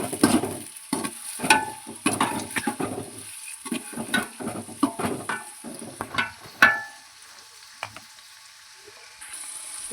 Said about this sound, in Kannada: ಚೆನ್ನಾಗಿ ಮಿಕ್ಸ್ ಮಾಡಬೇಕು, ಫ್ರೈ ಮಾಡ್ಕೋಬೇಕು ಈರುಳ್ಳಿ ಎಲ್ಲ.